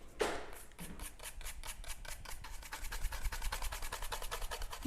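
Bristles scrub sanding dust off a bamboo cutting board with a toothbrush, a steady rapid rasping of short back-and-forth strokes, close and fairly quiet, with no talk.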